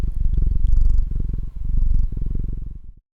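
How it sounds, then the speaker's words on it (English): A cat purrs close into a Rode NT1 Signature Series microphone, a deep rhythmic rumble in two long cycles with a brief pause between them, loud and intimate before stopping abruptly. "the kitty purr test."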